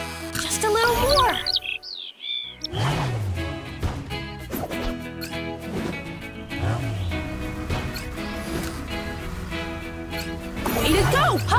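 Cartoon bird chirps and tweets from the Paw Patrol Rescue World video game flit over busy game music and effects, with a loud crash near the start and characters speaking throughout.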